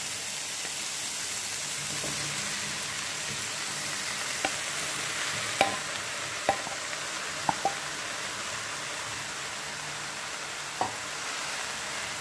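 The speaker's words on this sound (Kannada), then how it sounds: "ಈಗ ಇದಕ್ಕೆ ನಾವು ಸೋಯಾ ಚಂಕ್ಸ್ನ ಹಾಕ್ಕೊಳ್ಳೋಣ" Soya chunks being tossed into a frying pan of sizzling oil for a pepper fry, a steady close hiss broken by a few sharp clinks and scrapes as they are stirred in, with no talking.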